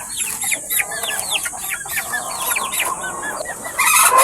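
A flock of hungry backyard chickens clucks and squawks loudly and close, overlapping calls repeating rapidly and continuously, rising in agitation toward the end.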